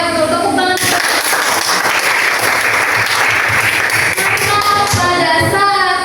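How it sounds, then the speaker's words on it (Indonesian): Loud, dense applause from an audience in a classroom setting during a biology exam session, a steady wash of many hands clapping without pause for the whole stretch. "Tepuk tangan."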